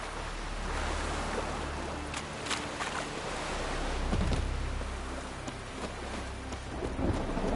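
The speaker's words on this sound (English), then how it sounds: "It's raining." Steady rain pours in Witcher 3: Wild Hunt, a dense wash of drops with low rumbling thunder rolling underneath and swelling midway, with no voices.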